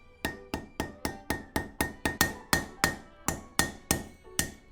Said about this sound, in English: peen this side of the rivet, and then I can take off this plate, flip it over, and then peen the other side